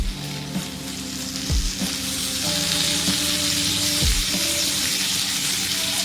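Curry leaves hit melted butter in a pan for dry butter chicken, giving a steady crackling sizzle with a few low thumps and a persistent hum underneath.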